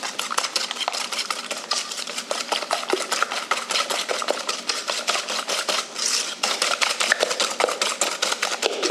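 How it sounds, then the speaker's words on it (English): White sugar being whisked in a bowl: a dense, steady run of rapid clicking and scraping strokes, close and fairly loud, continuing without pause and with no talking. "That's just white sugar, and I'm gonna whisk this together"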